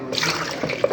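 Milk pours into a blender jar for a mango smoothie, giving a steady close liquid splash and gurgle that lasts about a second, with a brief sharper slosh near the end.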